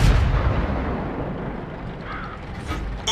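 Tank cannon fire in the World of Tanks game: a heavy boom opens over a continuous mechanical rumble and clatter, with a second sharp blast right at the end.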